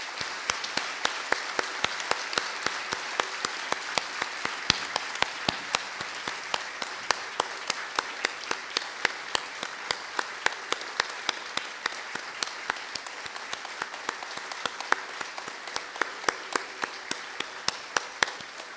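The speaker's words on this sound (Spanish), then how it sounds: "le pido a todos ustedes que le demos un aplauso que le llegue hasta el cielo" An audience at the inauguration of a Panamanian procedural law congress claps in a steady, rhythmic unison beat, even and sustained for nearly twenty seconds in a large hall.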